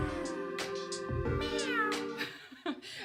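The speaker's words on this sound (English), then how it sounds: "Yesterday, I discovered a cat called Mao." A cat meows over sustained music with a steady low drone and harmonic tones, its cries rising and falling in several clear calls across the few seconds.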